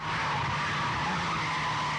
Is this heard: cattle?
no